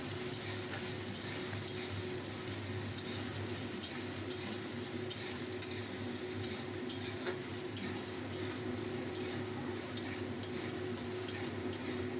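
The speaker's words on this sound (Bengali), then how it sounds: "নারকেলগুলো হালকা করে ভেজে নেব" Grated coconut fries lightly in a pan over low heat, a soft steady sizzle with regular scraping and stirring ticks from a utensil, quiet and close with no talk.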